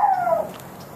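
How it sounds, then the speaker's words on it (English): A dog gives a single drawn-out whining yelp that falls in pitch, fairly close, followed by quiet background. "You can hear the dogs in the background."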